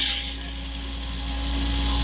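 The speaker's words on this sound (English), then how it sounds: "And then you hit the coffee grinder." A coffee grinder whirs steadily as it grinds flaxseed, a continuous buzzing grind at moderate volume that runs without a break.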